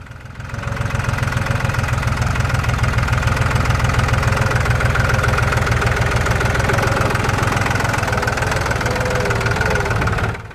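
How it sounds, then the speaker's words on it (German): A farm tractor runs during a hay harvest, its mid-low engine chugging steadily and loudly near the listener with a rhythmic knocking pulse, holding constant for about ten seconds before it cuts off abruptly. "Man hört schon den Trecker."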